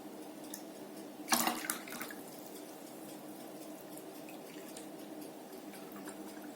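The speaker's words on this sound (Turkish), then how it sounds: "Dört su bardağı suyumuzu ekliyoruz." Four glasses of water pour into a pot for kadayif syrup, a brief splashing burst followed by quieter trickles and drips against a low kitchen hum.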